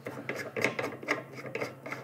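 A CO2 cartridge is screwed slowly into the tap of a 5-litre beer keg. It makes close, repeated rasping and grinding scrapes of metal threads, with short bursts coming in an uneven rhythm.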